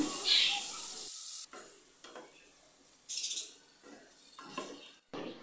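Onion, garlic and ginger paste sizzles in a pan with goat meat, a steady frying hiss broken by soft stirring scrapes and light clinks of a utensil against the pot, close and moderately quiet.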